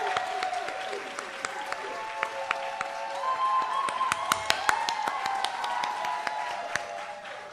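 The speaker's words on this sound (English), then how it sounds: "I think you deserve a major round of applause from all of us" A crowd applauds at a nursing pinning ceremony, with dense clapping and scattered sharper claps, while a sustained voice or tone runs underneath at moderate level.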